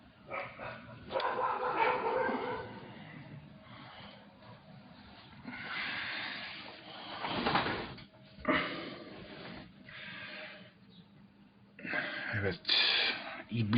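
Dogs bark in short bursts, with yips and a whimpering edge, mixed with voices and background noise.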